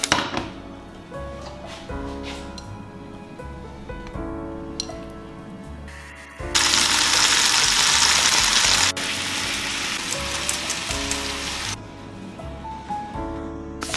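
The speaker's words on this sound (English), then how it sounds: "let's go and fry our scallops" Scallops fry in a pan for a homemade gourmet Valentine's dinner. A loud, steady sizzle surges in midway for several seconds and then fades, set against continuous background music.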